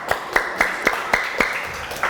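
A group of children clap in a steady rhythm, about eight sharp, close claps spaced evenly over two seconds, during a children's story lesson, with no talking in between.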